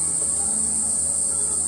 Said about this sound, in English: You know the deal, cicadas. Nothing I can do about them.